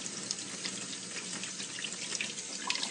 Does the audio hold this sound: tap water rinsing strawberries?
yes